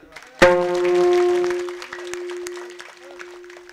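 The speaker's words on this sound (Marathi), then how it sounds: "टाळी वाजवा।" Audience clapping at a Marathi devotional kirtan gathering, opening with a sharp struck note that rings on and fades, then a dense patter of many hands continuing at a steady, moderate level.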